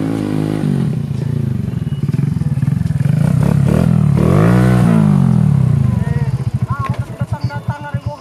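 A new motorcycle's engine revs up and down close by, with people talking over it before it settles into a rough, pulsing idle.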